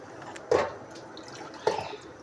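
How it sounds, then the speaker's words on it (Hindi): Water is sprinkled by hand into a kebab mixture for homemade burgers, giving two short, soft wet splats about a second apart over faint room noise. "थोड़ा सा पानी का छींटा देती हूँ मैं इसमें।"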